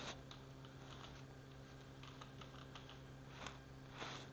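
Soft rapid key taps on a computer keyboard while code is typed, a quiet steady patter of clicks over a low constant hum, with a few slightly sharper strokes.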